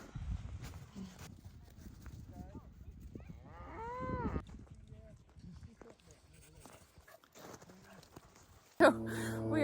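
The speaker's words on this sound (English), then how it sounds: "Oh, I hear cows." Free-range farm cattle moo several times, fairly close, with a long lowing call midway and a few shorter ones, over rustling, clip-clopping hoof steps and people talking nearby.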